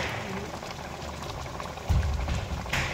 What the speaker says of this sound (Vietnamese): nồi cá của em sau khi đã đun được 20 phút này